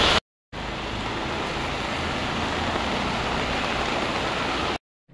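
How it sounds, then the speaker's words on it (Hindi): Heavy rain pours down in Mumbai as a dense, steady roar of broadband hiss that continues unbroken for several seconds, framed by brief silent cuts at either end. "बहुत बारिश हो रही है."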